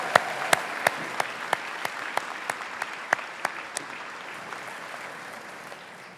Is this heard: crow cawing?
no